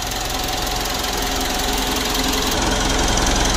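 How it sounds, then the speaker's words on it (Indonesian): Turbocharged diesel engine of a 2012 Mitsubishi Pajero Sport Dakar idling up close, a steady loud rumble with a rough, knocking pulse and a faint turbo whistle running throughout, no voices. "Untuk suara turbonya sudah bagus ya."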